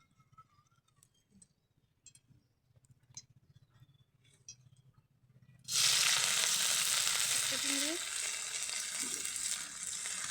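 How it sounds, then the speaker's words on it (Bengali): Dried shrimp hits hot oil with a sudden loud sizzle partway through, after quiet kitchen clinks, and the frying crackles on steadily and densely to the end, with a brief spoken word over it. "শুটকি চিংড়ি ভাজার জন্য তেল দিয়ে দিলাম।"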